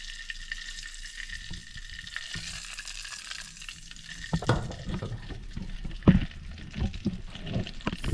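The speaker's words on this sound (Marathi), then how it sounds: "तडका बसत आहे" Tadka tempering for vada pav sizzles and crackles in hot oil, a close, steady frying hiss that grows livelier with scattered sharp pops and spatters toward the end.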